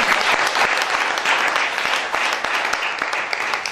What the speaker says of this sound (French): Si tu es d'accord, acclame comme un vrai chrétien.